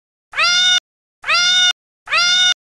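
A kitten meows three times in an even rhythm, each call clear, close and loud, separated by short silences, with no talking.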